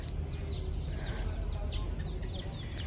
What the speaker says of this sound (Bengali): ওই পাশে মুরগি।